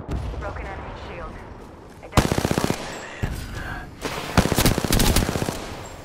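Gunfire in Apex Legends rings out in sharp rapid bursts, with a long automatic volley, a single crack, then another stuttering string of shots, loud and close amid game effects and a faint voice.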